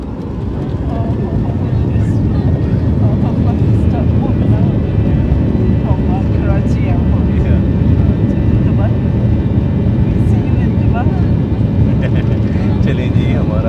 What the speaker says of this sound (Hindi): हमारा जहाज़ निकलना शुरू हो गया